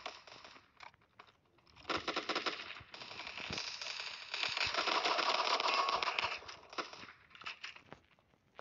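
Gunfire in a shooter video game: rapid, clattering bursts of automatic fire, faint and fairly distant, rising to a denser, louder stretch in the middle before breaking into shorter volleys.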